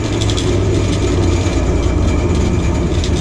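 A bandsaw runs steadily while cutting a CD clock, giving a continuous, even, close-up mechanical hum and buzz that holds unbroken for a few seconds with no talking.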